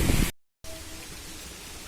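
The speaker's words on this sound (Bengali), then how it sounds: "আগের থেকে বৃষ্টিটা একটু কমে গেছে" Steady rain falls on garden and rooftop garden plants, a dense even hiss that stops for a moment and then resumes at the same level, with no voices.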